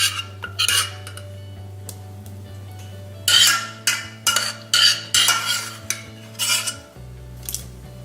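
A spoon stirs sauce into lentil soup in a metal pot on the stove, giving a series of scraping clinks and knocks in short bursts over a low hum, close and fairly clear.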